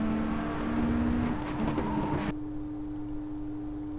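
A car engine droning steadily in the Volvo game, with a shift midway where the tone drops and the engine settles into a lower, quieter hum, no talking.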